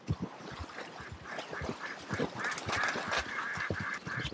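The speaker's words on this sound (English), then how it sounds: "There's some geese or something there." Geese honk and quack in the video game Red Dead Redemption 2, a busy overlapping flock calling repeatedly from fairly close, growing denser toward the end, with no talk over it.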